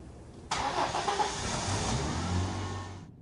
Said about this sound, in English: finally the truck roared